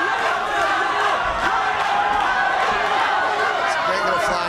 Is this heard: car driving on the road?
no